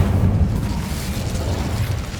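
An Incendio fire spell cast in the Hogwarts Legacy video game: a loud, low, rumbling whoosh of flame that roars steadily for about two seconds and eases slightly at the end.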